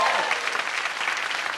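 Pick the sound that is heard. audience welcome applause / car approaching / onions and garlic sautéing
audience welcome applause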